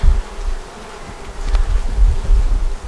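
Honey bees buzzing at a hive during a queen check, a steady close low drone with rising and falling swells, no voices.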